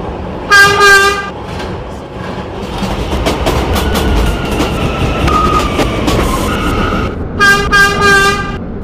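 A New York City subway E train, five-car R179, rumbles and clatters along the tracks, with a two-tone horn or chime sounding at the start and again near the end.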